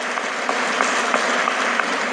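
Audience applause at a success-story event honoring the founder, a steady crowd clapping with dense, continuous texture throughout, fairly loud and without breaks.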